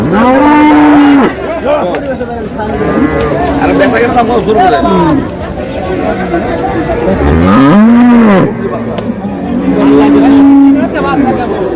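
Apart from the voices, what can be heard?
cows and calves mooing at a cattle market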